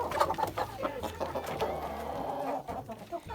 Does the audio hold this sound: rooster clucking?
yes